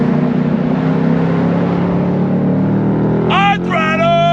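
A 2024 Ford Mustang GT sits under a steady engine drone that climbs into a sharp, rising rev on throttle near the end, loud and close.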